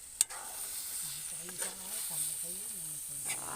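Ginataang santol in coconut milk is stirred in a pan, giving a soft continuous sizzle and scraping under a person talking throughout.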